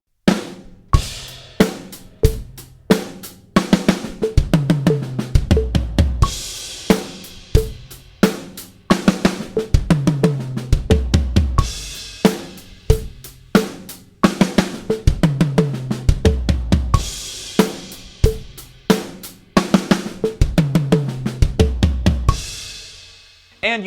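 Loud, close drum fills at 90 BPM repeat again and again: quick tom strokes descending to booming floor tom hits, punctuated by kick drum thumps and cymbal crashes.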